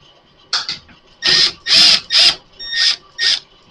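A power drill backs screws out of an LG front-load dryer console in short, close bursts of whirring, about six quick runs separated by brief pauses.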